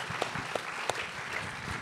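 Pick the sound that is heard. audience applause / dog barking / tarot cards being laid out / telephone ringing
audience applause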